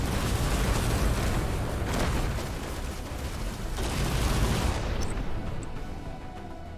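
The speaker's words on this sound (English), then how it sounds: "he's exploding nicely" Missile explosions in the mech strategy game Phantom Brigade, a sustained, rumbling series of loud blasts and crackling debris that swell and roll together before tapering off.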